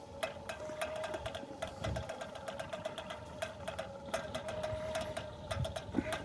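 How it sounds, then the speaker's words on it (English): Centurion D5 Evo gate motor reversing a steel sliding gate with welded angle brackets, a steady mid-pitched motor whine running throughout with a low rumble and irregular clicking ticks over it. "Now we're going to press it. The gate's going to start reversing."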